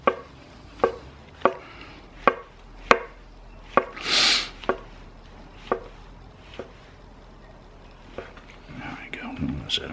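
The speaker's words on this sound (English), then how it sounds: "I took the base of the mushroom down, cut it down" Mushrooms chopped with a Fzkaly 8-inch hollow-edge chef knife: about a dozen crisp, close knife strikes in a steady rhythm, with a brief soft hiss midway and low murmuring toward the end.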